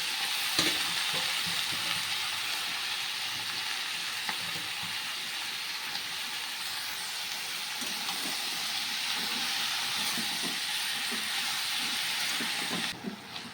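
Vegetables with spinach and pumpkin sizzle and spit steadily in hot oil with turmeric, a dense, continuous frying crackle holding at an even level throughout, with no voices.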